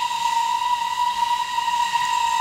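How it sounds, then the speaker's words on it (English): A sustained, steady steam whistle from an LBSCR Stroudley A1/A1X Terrier 0-6-0T tank locomotive in Train Simulator 2016, one long unbroken tone held loud and close with a layer of hiss. "Let me just blow the whistle quick."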